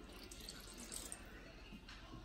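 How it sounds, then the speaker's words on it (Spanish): A little water poured into a three-chile salsa in a home kitchen, a very quiet, thin trickle and splash running for a couple of seconds. "Le voy a echar poquita agua nomás"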